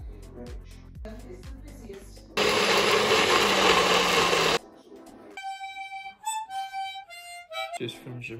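Blender whirring loudly as it crushes a frozen smoothie, a steady dense roar of about two seconds between quieter kitchen sounds and tonal beeps.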